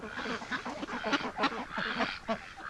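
Breeding ducks call loudly and persistently, a busy overlapping chorus of quacks and honks from a duck flock at close range.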